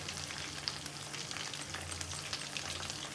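Chicken pakora fry in hot oil with a soft, constant crackle, and the stirring adds small scraping clicks now and then, heard close and fairly quietly.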